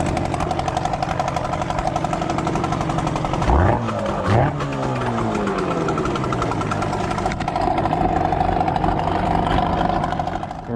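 An outboard motor runs steadily close by, its drone rising and falling briefly as the revs change mid-way before settling back to an even, loud hum.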